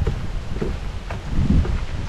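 Wind gusts outdoors over a freshly cut grassy field, a broad rushing noise with rumbling buffets against the microphone, swelling stronger toward the end.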